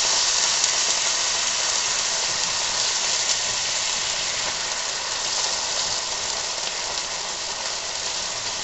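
Canned soup and meat in a hot pan: a steady, loud broadband sizzle and hiss that continues unbroken throughout, with no talk.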